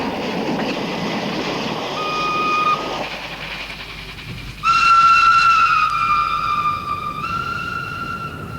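A loud steam whistle blows in a long sustained blast, shifting pitch slightly, over the rumble of a moving train.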